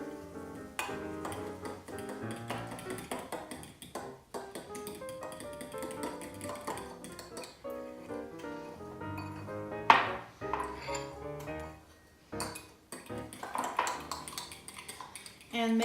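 Homemade ranch dressing being mixed in a bowl with a utensil, making steady light tapping and clinking against the bowl, with a sharper clink partway through, under quiet background music.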